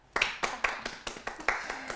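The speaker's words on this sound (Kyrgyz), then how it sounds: "Кол чабуулар." Sparse, close hand claps from a small studio audience on a Kyrgyz music talk show, about eight distinct claps in an uneven rhythm over two seconds.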